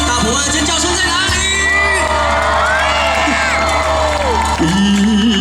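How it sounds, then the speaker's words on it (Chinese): Outdoor summer concert crowd at Dapeng Bay in Pingtung, Taiwan, cheering, whooping and screaming continuously over amplified music and singing, loud and dense throughout. "大伙的尖叫声在哪里？"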